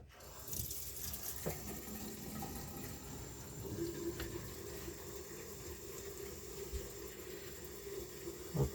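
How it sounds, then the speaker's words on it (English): Water running from a bathroom sink faucet after a plumbing repair, a steady low hiss of flow at moderate level, continuous and unaccompanied by talk. "you can hear the water running."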